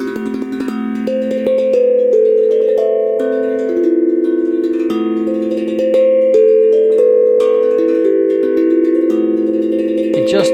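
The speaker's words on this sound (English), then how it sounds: "it sounds great on any steel tongue drum, even on a regular tank drum" A steel tongue drum played with the thrill technique rings out sustained, bell-like notes with rich shimmering overtones, played continuously and fairly loud with no talking.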